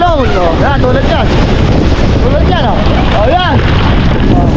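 Big waves churn across floodwater as strong wind buffets the microphone in a constant loud roar, with a voice talking intermittently over the turbulent noise.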